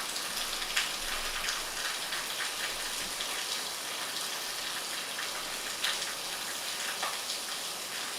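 Steady rain falls throughout in a hot, humid setting, a dense, even hiss of drops with occasional louder splatters, no talk over it.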